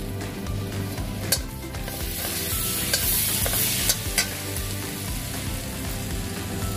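Whole cloves, cinnamon, cardamom and black peppercorns fry in a pot for chicken stew, giving a steady close-up sizzle with intermittent scraping stirs and small pops.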